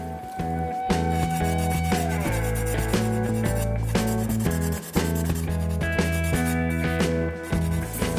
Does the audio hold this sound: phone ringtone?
no